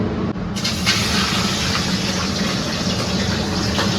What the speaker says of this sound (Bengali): জলটা দিও না, আমি ভয় পাচ্ছি, ছিটকে চলে আসছে